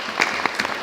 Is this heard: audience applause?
yes